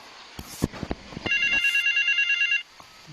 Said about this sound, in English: I love how it's calling so hard, it's shaking the phone box